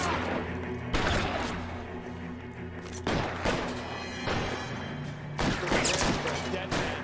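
Gunfire from the 1940s Los Angeles crime game L.A. Noire, with repeated loud bursts of shots and booms at about one, three and five and a half seconds over a constant game background, with a voice talking in between.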